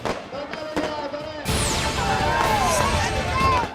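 Firecrackers burst at a village welcome for a newly appointed chief minister returning to his home village at night, a loud crackling barrage starting abruptly partway through with a whistling streak, over crowd noise.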